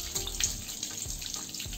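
Tap water runs steadily as a birdcage is rinsed to wash out bleach, a continuous close splashing and trickling with no voices.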